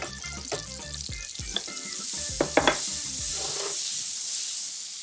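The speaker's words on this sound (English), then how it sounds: "you'll need a generous dollop of butter in a hot pan to fry your burgers." Butter sizzles and spits in a hot frying pan, ready for burger patties, with a steady close crackle and a few brief sharp pops and clinks.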